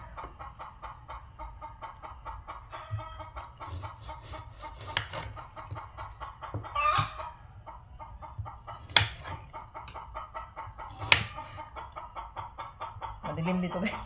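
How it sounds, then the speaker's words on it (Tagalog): A hen clucks repeatedly in a steady rhythm, with a few sharper knocks and a steady high hum in the background. "Maingay yung ano, yung manok."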